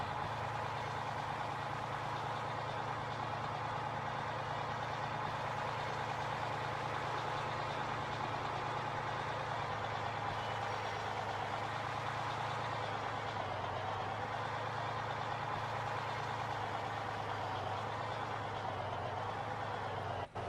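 A tractor and truck engine idle in Farming Simulator 15, a steady, unbroken low rumble with a constant mechanical drone held at even loudness throughout, no voices.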